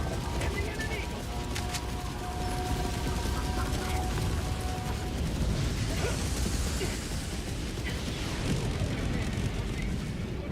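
An orbital strike in a video game sets off a loud, sustained rumbling blast, with heavy low booms and debris noise washing over the whole stretch.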